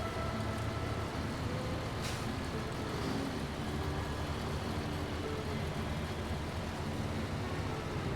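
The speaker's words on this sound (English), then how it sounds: "He said that truck is so loud." A loud, steady video-game truck engine, a C500, drones continuously with a deep rumble, holding close and unbroken throughout.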